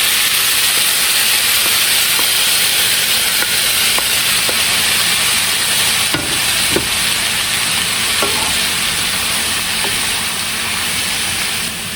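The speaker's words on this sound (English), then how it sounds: "So all our cooked veg is going to go back into the frying pan now." Cooked vegetables for egg roll filling sizzle steadily in a frying pan, a continuous hiss with occasional stirring clicks and scrapes, close and fairly loud throughout with no talking.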